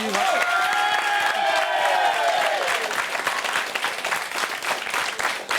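Audience applause and cheering for the Gioventù Paolina team at a festive gathering, a dense wash of clapping that starts loud under an announcer's voice and a held sung or shouted tone, then tapers slightly toward the end.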